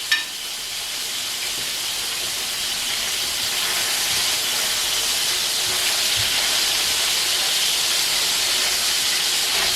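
Fideuà noodles browning in a hot pan, with langoustines in the dish, hiss and sizzle as a steady, moderate sound that holds evenly throughout, with no talking.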